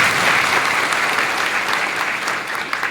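A crowd at a Gondwana Gantantra Party political rally in Shahpur applauds loudly, a thick continuous roar of clapping hands that stays strong throughout and thins slightly near the end, with no speech over it.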